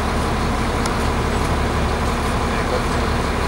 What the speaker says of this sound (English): Traffic on a Saturday. Go figure.